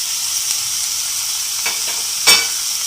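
Spring roll filling of boiled noodles and shredded chicken fries in a pan, a loud, steady close sizzle with a couple of brief stirring scrapes.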